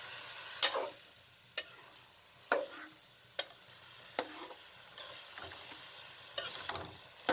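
A spoon stirs potatoes and carrots with mixed vegetables in a pan, giving sharp scraping clacks at irregular intervals over a faint background, close and with no talking.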